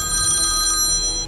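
A telephone rings with the eerie ringtone from The Ring, a steady electronic tone with high harmonics repeating in a pulsing pattern, loud and close, with no talk over it.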